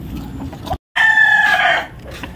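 A rooster crows close by and loud, one drawn-out call after a short silence, over faint farmyard background noise.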